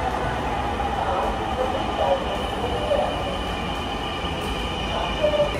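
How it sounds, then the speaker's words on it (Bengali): A Dhaka metro rail train pulling into a station, a steady mid-level whooshing rumble that holds evenly with faint squeaks and a few soft bumps, heard from the platform. "আরেকটা ট্রেন আসছে"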